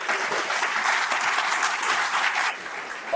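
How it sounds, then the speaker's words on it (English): Crowd applause during a governor's final State of the Territory address, dense steady clapping throughout, loud and close, easing slightly near the end. "Please give him a round of applause."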